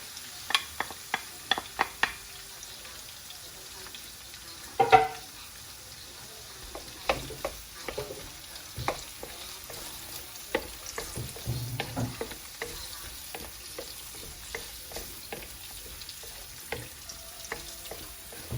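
Onion and browning garlic fry in a pan for chopsuey with a soft, continuous sizzle, broken by frequent close scraping and tapping from a spatula stirring, including one louder clatter early on.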